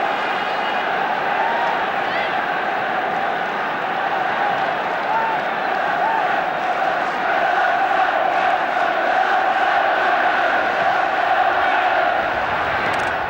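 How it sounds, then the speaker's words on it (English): A large football crowd roars steadily at the 1976 FA Cup Final between Southampton and Manchester United, a dense, continuous wall of cheering and applause that swells slightly toward the end. "Roars of applause for the Manchester United attack."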